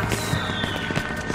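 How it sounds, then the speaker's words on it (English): Fireworks bursting in the shooter game Battlefield Hardline, with repeated crackling pops and a whistling rise over a steady dense background, fairly loud and continuous. "Fireworks,"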